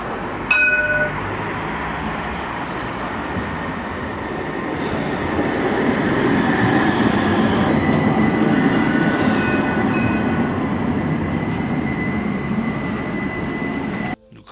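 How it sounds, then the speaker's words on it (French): Zaragoza tram ride, a steady rumble of the rail car with wheel and track noise rolling continuously underneath, rising slightly midway, with brief high tonal squeals near the start. "Nous allons prendre le tram, la seule et unique ligne pour aller au centre-ville."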